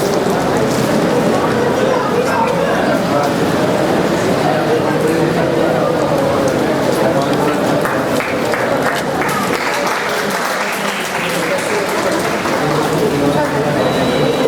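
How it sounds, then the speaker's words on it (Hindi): An indoor audience at a formal Hindi-language gathering claps loudly and continuously, a dense, sustained wash of applause throughout. "जोरदार तालियां बच्चे"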